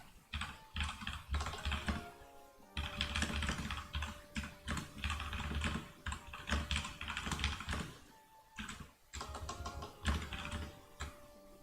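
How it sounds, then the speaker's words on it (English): Fingers type on a computer keyboard in quick, irregular bursts of close, crisp key clicks with short pauses between runs, and no one speaks. "I'm typing."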